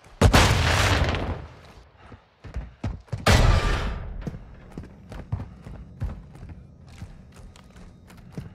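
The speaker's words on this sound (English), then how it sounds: "Throwing flash grenade!" Flash grenade going off in Call of Duty: Modern Warfare 2 multiplayer, with two loud, sharp blasts a few seconds apart, each followed by scattered thuds, clatter and distant gunfire-like knocks.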